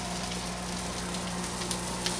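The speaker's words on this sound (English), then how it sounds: "Sounds sizzling good." Steady, dense sizzling of crab cakes frying in a hot pan, close up, with a couple of faint pops and no talking.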